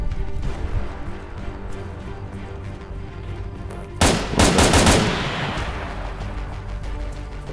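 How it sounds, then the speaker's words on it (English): Gunfire in the video game Arma 3: a quiet stretch of low background noise, then a loud cluster of sharp shots about halfway through, fading into a lingering rumble. "he's shooting me and I can't see him"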